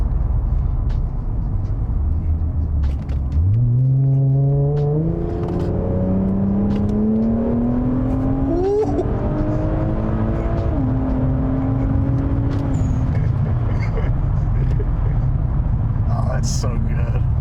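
A 540+ wheel-horsepower all-wheel-drive Infiniti Q60 with a stage 2 turbo setup pulls hard through the gears from inside the cabin, its engine note climbing in several rising sweeps with brief shift breaks, loud and close over road rumble.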